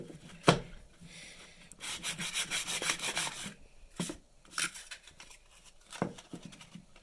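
Sandpaper rubs back and forth along a warped wooden baseboard in close, steady strokes, with a sharp knock near the start and a few bursts of faster rasping scrubbing, no voices.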